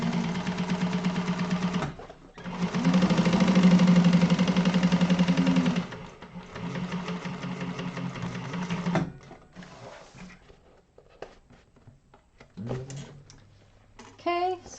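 A sewing machine stitches the sides of a bag, running in short bursts of rapid whirring and buzzing with pauses between, followed by a few quieter handling sounds.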